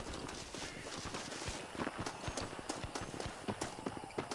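Horse hooves clip-clopping in Red Dead Redemption, a steady run of close, loud hoofbeats with no pauses, over a bed of ambient game sound.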